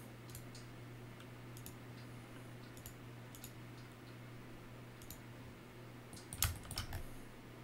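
Faint, scattered clicks of a computer mouse while working in Blender, coming in short bursts with a brief cluster of quicker clicks near the end over a quiet hum, no talking.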